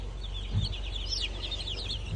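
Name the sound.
meat chickens clucking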